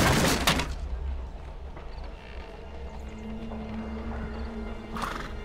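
A horse in the Sherlock Holmes: The Devil's Daughter video game whinnies loudly at the start amid clip-clopping hooves, followed by ongoing background game ambience and another brief burst near the end.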